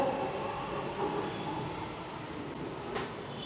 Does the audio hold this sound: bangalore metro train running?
yes